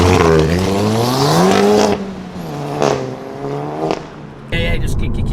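A car fitted with an APR open carbon fiber intake accelerates hard, its engine note climbing in pitch through rising revs with a brief shift dip, while people talk over it.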